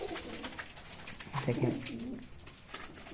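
Indian Lotan pigeons in a home loft coo softly with a rising, throaty burble, while someone briefly speaks nearby.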